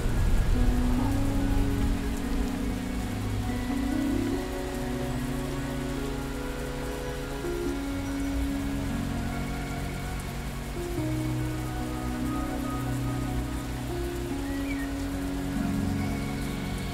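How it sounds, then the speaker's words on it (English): Steady rain in a video game, a continuous dense hiss of drops on surfaces with a low rumbling undertone, holding evenly throughout with no voices. "make it rain again"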